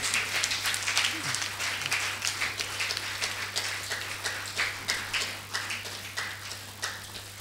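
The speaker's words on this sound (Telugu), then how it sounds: "గట్టిగా చప్పట్లు కొడదాం." An audience claps at a book release gathering, with steady rhythmic clapping from a modest crowd heard at a distance over a low electrical hum, fairly quiet and without talk.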